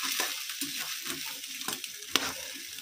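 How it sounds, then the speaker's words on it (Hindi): Green peas sizzle in a hot pan for kachori filling while a spoon stirs them, close frying crackle with irregular scraping strokes and a sharp clink near the end, no talking. "मिक्स करेंगे अच्छे से"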